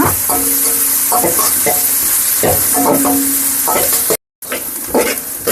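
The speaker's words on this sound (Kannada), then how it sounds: "ಇವಾಗ ಎಣ್ಣೆ ಕಾದಿದ್ದೆ ಇದಕ್ಕೆ ಕಟ್ ಮಾಡ್ಕೊಂಡಿದಂತೆ ಎರಡು ಈರುಳ್ಳಿ ಸೇರಿಸ್ಕೊಂಡು ಚೆನ್ನಾಗಿ ಫ್ರೈ ಮಾಡ್ಕೋತೀನಿ" Two chopped onions fry loudly in hot oil, a dense continuous sizzle broken by stirring scrapes. The sound cuts out briefly near the end, then returns.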